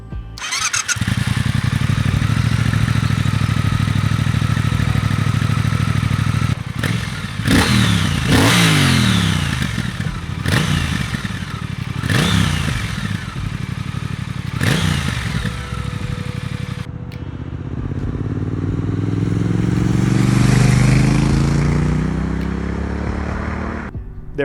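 A Triumph Thruxton RS Chrome Edition motorcycle's stock engine and exhaust rev loudly and close up, with several sharp throttle blips rising and falling over a steady idle, then a long swelling rev near the end.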